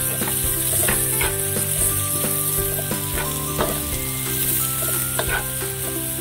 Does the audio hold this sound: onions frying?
yes